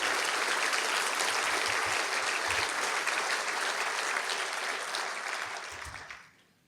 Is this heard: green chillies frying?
no